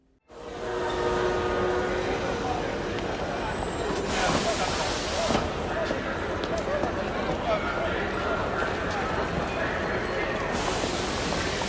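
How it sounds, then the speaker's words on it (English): Dense, reverberant roar of a train station hall in a scene from the film Ripley, with continuous rumbling noise and echoing wash that swells midway, loud and sustained throughout. "Can you feel the reverberation in the train station?"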